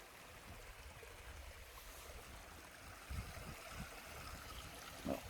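A trailside stream flowing at a water source along the Appalachian Trail near Tray Mountain, a steady low rush of water with a couple of brief splashy knocks near the middle and end, no voices.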